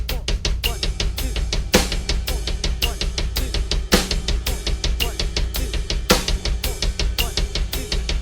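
Double bass drum groove with steady ride cymbal quarter notes and a halftime snare backbeat, played continuously and loud with rapid kick pulses underneath, with no talking.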